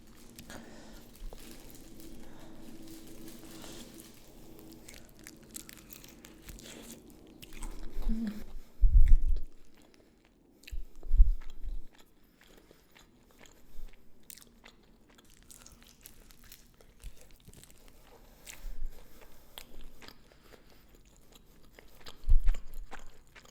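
Someone eats Korean-style fried chicken in red sauce, with several crunchy bites and chewing bursts coming in uneven clusters, close and fairly loud against a quiet room background.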